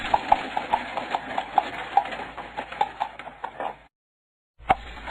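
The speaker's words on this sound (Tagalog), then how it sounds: "mga karitong hila ng mababagal na kalabaw" Slow carabao pulling carts clop along in a steady, uneven rhythm of hoofbeats, fairly close and clear, broken by a short silence before one last clop.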